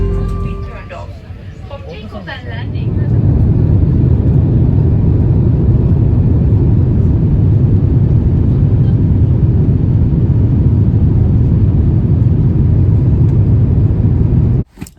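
A very large double-decker passenger jet arriving in Istanbul gives a loud, steady low engine roar that fills the cabin for over ten seconds, following a few seconds of quieter mixed background sound.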